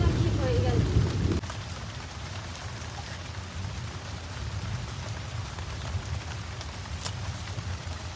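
Rain falls steadily on a vegetable garden of leafy greens, making a constant close patter. A deeper rumbling noise fades out after the first second, and the soft, even downpour then continues alone.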